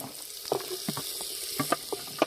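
Tomatoes and vegetables fry in a pan for a paneer pulao cooked outdoors in a village, giving a steady sizzle with several sharp crackles and stirring clacks close by; no talking.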